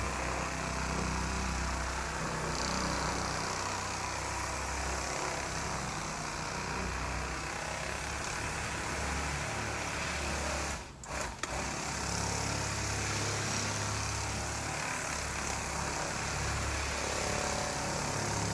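Power buffer polishing dull paint on a shuttle bus being converted to an RV, giving a steady motor whine with a brief dip partway through and no talk.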